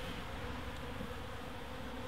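A dense, steady drone of wild bees buzzing at a hive lodged in a chimney fills the whole stretch, continuous and fairly close with no pauses or talk.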